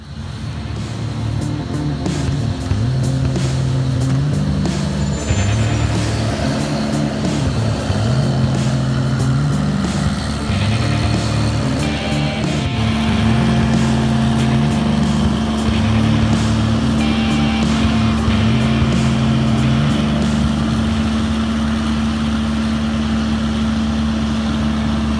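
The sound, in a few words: almond harvest sweeper blowing nuts in orchard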